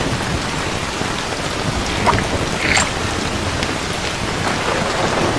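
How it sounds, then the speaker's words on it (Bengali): Heavy rain falls steadily and densely nearby, a constant broadband patter on surfaces that holds even throughout with no voices. "দেখ কি বৃষ্টি পড়ছে।"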